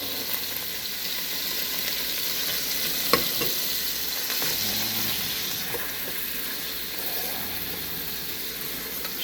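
Half a cup of chopped celery sizzles and fries steadily in a pan for a homemade chicken pot pie, with a brief knock of stirring partway through and no talking.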